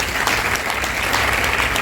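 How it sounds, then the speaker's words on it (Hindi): Audience clapping at a Hindi poetry and ghazal gathering held at an Ayurvedic college, a short, loud, even burst of applause filling the whole moment. "जोरदार तालियां आप इन लोग के लिए बजाएं"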